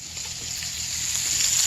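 Sausage fries in a pan, giving a steady, close hiss and crackle of sizzling grease that grows slightly louder, with no voices.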